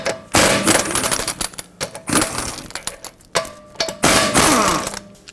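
Lug bolts, 19 mm, come off the rear wheel of a 2011-2018 Volvo S60, loose metallic rattling and clattering in repeated bursts, close by, like a ratchet spinning and bolts clinking together.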